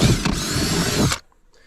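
Power drill boring holes into a compost bin, a loud steady whirring burst for about a second before cutting off abruptly into near silence.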